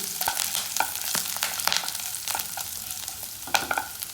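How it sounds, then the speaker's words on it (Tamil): Curry leaves frying in oil in a pan for egg chukka, a steady crackling sizzle broken by frequent sharp spatters and stirring scrapes, close and fairly loud, no voices. "கருவேப்பிலை வந்து சுக்காவுக்கு இந்த எண்ணெயில் இப்படி நல்லா பொரியும் பொழுது நல்லா வாசமாக இருக்கும்"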